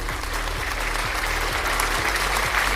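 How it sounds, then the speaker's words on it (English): An audience claps together as a show wraps up, forming a dense, steady wash of applause that lasts throughout, with soft low thumps pulsing underneath at a regular beat. "As the claps start"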